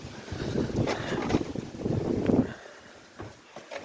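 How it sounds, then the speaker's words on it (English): Gusty wind rumbles against the microphone, loud for the first few seconds before easing off to a quieter rush. "Man, it's windy."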